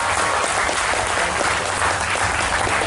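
An audience at a Durga Puja Navami cultural program claps steadily for the singer Sunil, a dense, even wash of hand claps lasting the whole moment with no voices over it.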